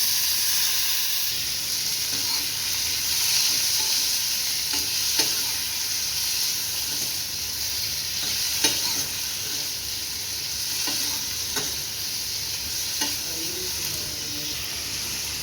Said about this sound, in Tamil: இது கூட ஒரு 5-6 சின்ன வெங்காயம், ஒரு தக்காளி, ஒரு பச்சை மிளகாய், இது எல்லாத்தையும் சேர்த்து நல்லா ஃப்ரை பண்ணிக்கலாம்.